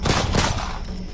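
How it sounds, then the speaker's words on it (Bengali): A short burst of gunfire, a couple of loud close shots followed by a decaying rumble, staged as a shootout effect in a Bengali detective audio drama. "ওধার থেকে গুলি ছুটে আসছে,"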